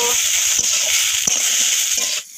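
Chopped ripe tomato and capsicum stir-fried in a pan for a mixed greens dish, a bright steady sizzle with several clacks of a spatula, cutting off abruptly near the end.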